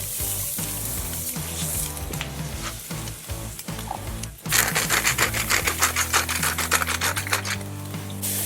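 Smash burger patties sizzle on an outdoor grill, a steady dense crackle and hiss with tapping clatter, growing louder and brighter midway through.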